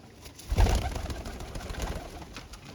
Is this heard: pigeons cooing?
yes